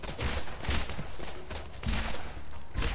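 Gunfire in the video game Borderlands bursts in rapid volleys aimed at the player, loud and dense, with repeated heavy shots filling the whole stretch.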